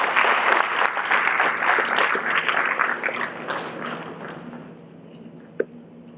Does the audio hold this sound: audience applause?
yes